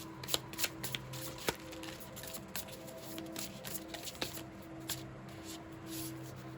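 Tarot cards being shuffled by hand, a soft continuous papery riffle with scattered sharper snaps and taps, close and fairly quiet, with no talking.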